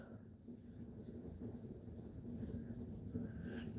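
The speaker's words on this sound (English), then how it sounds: "Apparently, I guess it's supposedly hailing outside" A storm rumbles outside with hail and rain, a steady dense patter and low thunder-like rumble filling the short stretch without any talk.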